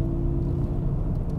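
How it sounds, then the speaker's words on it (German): Steady artificial driving sound of a Mazda MX-30 electric car, a low, even synthetic hum with a sustained tonal drone and no speech. "Mazda hat gesagt, dieser Fahrgeräusch, das gehört zum Auto"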